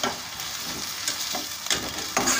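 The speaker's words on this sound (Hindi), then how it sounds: "अभी इसको हमें इतना पकाना है कि आलू अच्छी तरह से फ्राई हो जाए" Potatoes frying in a pan, a busy crackling sizzle punctuated by a few louder stirring scrapes toward the end, close and steady with no speech.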